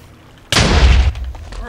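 A single cannon fires in a game as a sudden loud boom that rings out in a broad rumbling burst for about half a second and then fades into a lingering low tail.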